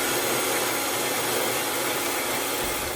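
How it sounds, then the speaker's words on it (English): A power tool cuts the flange off a 3-inch exhaust pipe for a V-bend, a steady loud broadband grinding that runs unbroken and close for the whole stretch with no voices. "So first thing we're going to do is cut the flange off the 3-inch pipe."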